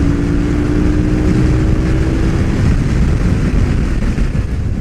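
A Honda Africa Twin CRF1000L2 motorcycle engine drones loudly and steadily up close after a shift into fifth gear. Heavy wind rush buries the exhaust tone, which holds a low hum with no voices.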